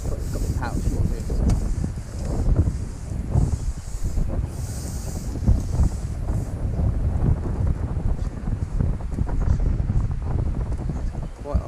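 Strong wind buffets the microphone beside a fishing lake, a continuous rough rumble with gusts that stays loud throughout.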